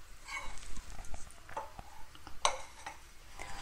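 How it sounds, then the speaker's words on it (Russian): A spoon stirs a starch-thickened sauce, scraping and clinking against the bowl in an uneven run of light taps with one sharp knock midway, close and fairly quiet. "Все хорошо перемешиваем, чтобы в соусе не было комочков."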